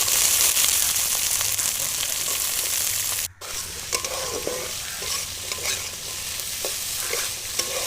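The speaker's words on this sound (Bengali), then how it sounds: "সবজিগুলো সব ভেজে নিচ্ছি।" Vegetables for dal sizzle and fry steadily in hot oil in a pan, with stirring scrapes throughout and a brief cut near the middle; no voices.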